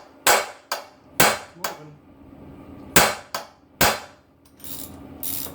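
A modest, non-sledge hammer strikes stuck engine head bolts: about eight sharp metallic blows at uneven intervals, loud and close, each ringing briefly, with a single spoken word in between.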